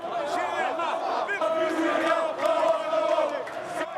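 Large protest crowd in Algeria chanting together in chorus, a dense sustained mass of voices rising and falling in rhythm, loud and close throughout with cheers mixed in.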